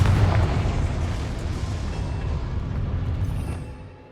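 A Confringo blasting spell goes off in Hogwarts Legacy, a loud, booming explosion that starts strong and rumbles for several seconds before fading away, with no talk.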